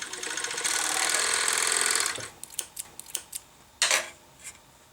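A sewing machine runs fast and steadily for about a second and a half while sewing a straight seam on a thong, then stops, followed by scattered clicks and a few short handling knocks.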